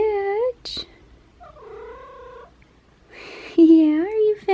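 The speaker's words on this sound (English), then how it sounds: "He's doing some of these like kind of loud purrs." A cat purring loudly close by, heard as a few loud rising and falling trill-like calls separated by short pauses.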